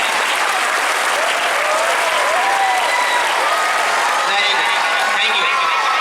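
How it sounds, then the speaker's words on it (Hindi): A crowd at an Independence Day school celebration breaks into loud, continuous applause for the students, with voices mixed into the dense clapping throughout. "इसके लिए भी एक बार ताली होनी चाहिए"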